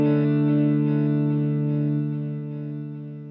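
An electric guitar played through a TC Electronic Triple Delay pedal rings out as one sustained, distorted chord with a faint warble, loud at first and slowly fading over a few seconds, with no voices.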